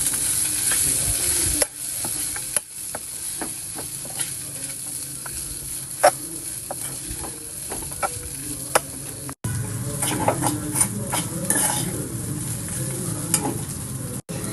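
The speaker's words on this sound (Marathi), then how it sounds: "भिजून ठेवलेले पोहे आपण ह्यामध्ये टाकूया। फिरून घेऊया" Soaked poha being stirred into a hot pan for kanda pohe, giving a steady sizzle broken by repeated scraping taps of the spoon, close and continuous with no voices.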